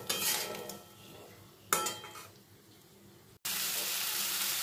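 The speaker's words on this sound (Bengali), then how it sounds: "এবার আমি ঝোলের জন্য এর মধ্যে জল অ্যাড করে দেব" Water poured into a sizzling fried spice paste for a koi fish curry with taro and potato: pan clatter and faint sizzling, then a short break and a sudden, steady, loud hiss that lasts to the end.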